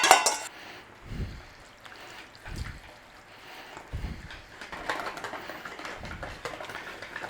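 Wet ingredients are folded and stirred into a dry cornbread mix in a bowl, giving a series of soft, close scraping and sloshing strokes at an unhurried, uneven rhythm, with no talking.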